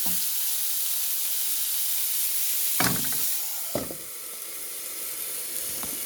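Beetroot pachadi cooks in a pan with a continuous loud sizzle. A spoon stirs it twice in short scraping strokes.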